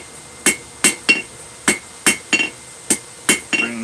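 A hammer strikes metal tapers on an anvil during blacksmithing, ringing out in about ten sharp, bright blows spaced roughly every half second, some followed by quick lighter bounces, close and loud with no talk.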